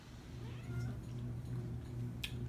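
A house cat meows indoors at home, a drawn-out mid-level cry under a steady background hum, with no talking.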